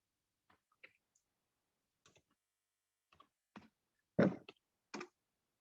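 Computer keyboard typing while entering MATLAB code, a sparse run of separate clicky keystrokes in small groups, close and crisp in an otherwise silent room.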